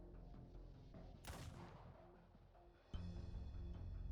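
A gunshot in the video game Arknights: a sharp burst cracks out, then a second abrupt bang lands over a low, rumbling game soundtrack, with no voices.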